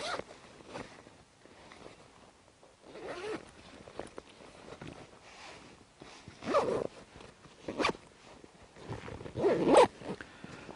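Two-way zipper on a pocket of a Tasmanian Tiger Trooper backpack with a large storm flap, several short close raspy zips in separate bursts, the last ones louder, with no talking.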